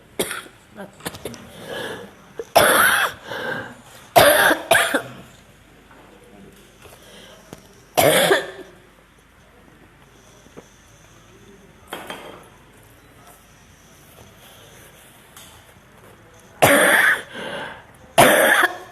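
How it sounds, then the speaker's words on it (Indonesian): Several sharp coughs and throat clears come in bursts, close and loud, with quiet pauses between and some clinking of dishes. "Batuk."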